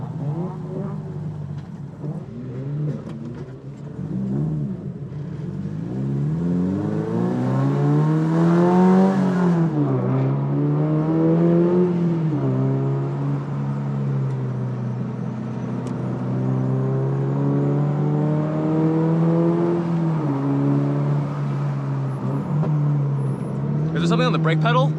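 A Subaru BRZ Limited with a Tomei exhaust, front camber set up and otherwise stock power, driving on a race track, its engine rising and falling in pitch through repeated accelerations and shifts, loud and sustained throughout.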